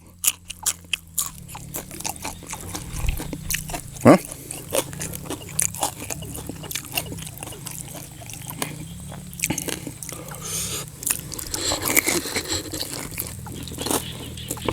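Close, repeated crunching bites and wet chewing of crispy fried pork eaten with fresh vegetables, with irregular crisp snaps over a steady stretch of mastication.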